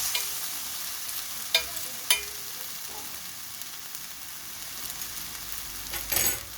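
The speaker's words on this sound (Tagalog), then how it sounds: "ilagay na natin ang ginisala natin ng pancit canton. Ilagay na natin dyan. At halo-haloin natin." Pancit canton noodles are stirred in a frying pan, a steady sizzle broken by a few sharp clinks of the utensil against the pan.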